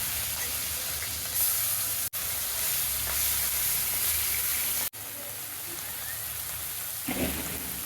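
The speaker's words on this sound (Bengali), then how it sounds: "তেল গরম হয়ে গেছে, মাছগুলো ভেজে নিচ্ছি।" Fish frying in hot oil in a kadai, a steady dense sizzle with spattering that runs throughout, briefly cut twice by short gaps, with faint background noise.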